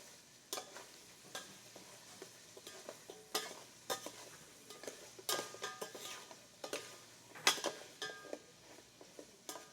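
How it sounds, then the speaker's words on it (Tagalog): Meat sizzles faintly in a frying pan while being stirred, with repeated scraping strokes of a utensil against the pan at an irregular rhythm, close and quiet. "inano ko pa yung karne, papupulahin ko pa para maganda"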